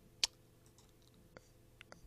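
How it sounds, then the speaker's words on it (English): Computer mouse clicks sound several times in a quiet room: one sharp, distinct click, then a few fainter, softer clicks spaced apart. "Clicking on this a couple of times,"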